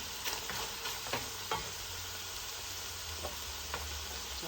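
Potato-wrapped meat cutlets fry in a hot pan with a steady, even sizzle, broken by a few sharp clicks of a utensil stirring or turning them.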